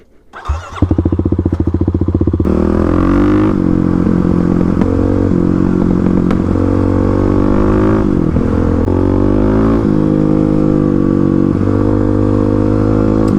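Kawasaki KLX351 dirt motorcycle starting up and riding hard, a loud close engine that rises and falls as it accelerates through the gears, with brief drops between shifts and no talking.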